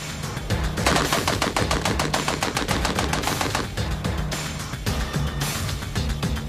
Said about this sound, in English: With the BAR, I can hit the target just fine.